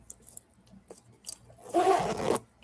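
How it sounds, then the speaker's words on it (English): A zipper pulled along a leather designer handbag, a short rasping burst near the end after a few faint clicks and rustles, close by with no one talking. "I just twisted the zipper here."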